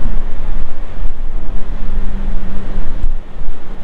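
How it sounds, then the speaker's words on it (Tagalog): Strong wind blows outdoors near a parking area, a steady loud roar of gusts buffeting the microphone throughout with no voices. "Malakas yung hangin"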